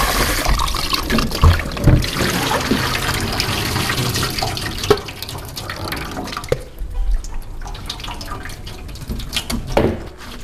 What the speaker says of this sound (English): I'm washing it thoroughly with clean cold water.